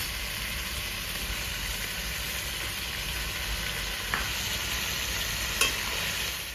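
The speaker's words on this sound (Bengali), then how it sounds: "চিকেনটা একটু ভেজে নিয়েছি এবার এক চামচ আদা বাটা আর রসুন বাটা দিয়ে দেবো" Chicken fries with ginger and garlic paste in a pan, a steady close sizzle with a couple of brief utensil knocks.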